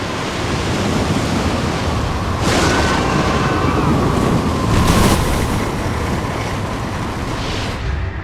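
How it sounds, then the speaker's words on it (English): Huge breaking storm waves in the Sydney to Hobart yacht race, a dense roaring wash of water with louder surging crashes against a yacht hull, loud and close throughout. "A huge breaking wall of water, 28 meters high, slams into the side of the hull."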